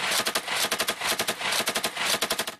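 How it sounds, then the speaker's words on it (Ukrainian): Heavy machine guns firing in battle in eastern Ukraine, loud close bursts of rapid shots in dense rhythmic strings with brief gaps between volleys. "використовуючи вже важкі кулемети і гарматомети"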